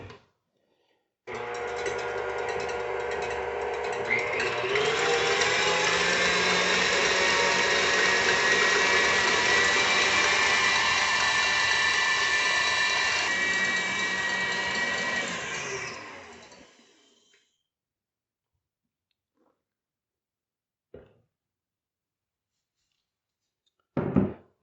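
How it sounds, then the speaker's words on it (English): Electric stand mixer beating egg whites for meringue, a sustained close whirring drone lasting about fifteen seconds before winding down, then a couple of isolated knocks. "now we want to beat these whites, and I like to use my kitchenette for that"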